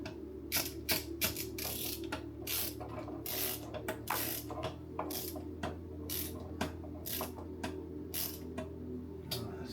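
A screwdriver turning a screw inside a PC case, repeated ratcheting clicks and scraping bursts in an uneven rhythm, close and moderately loud with no talking.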